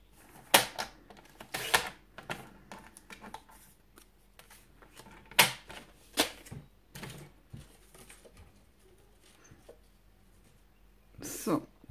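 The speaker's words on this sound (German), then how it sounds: "Also, ne, Designerpapier, nichts Besonderes. Das schneide ich mir jetzt zurecht bei 10 mal" Designer paper being cut to size for handmade cards, with scattered crisp snips and rustling handling sounds in irregular bursts, close and fairly quiet, under occasional soft talk.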